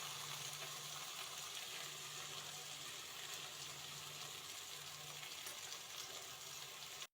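Eggplant and potato pieces fry in oil in a pan, giving a steady, dense hissing sizzle that stays even and unbroken throughout, fairly quiet and close, with no voices.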